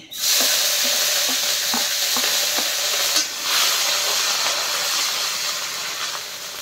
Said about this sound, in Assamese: এতিয়া মাংস আৰু বনাবৰ কাৰণে পিঁয়াজ আদা ৰচুন জলকীয়া ভাজি কৰি ল'ম